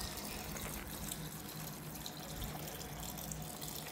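Water runs steadily into a cooking pot on the stove while a spiced Egyptian-style olive dish is prepared, a continuous close splashing fill with no talk over it.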